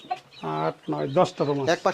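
Caged chickens cluck in a rapid run of short, throaty calls, close and fairly loud, with a few quick clucks at the start.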